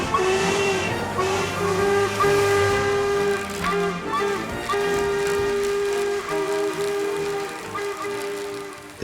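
A steam locomotive on the North Yorkshire Moors Railway sounds a long, steady whistle. Hissing steam and railway noise run beneath it throughout.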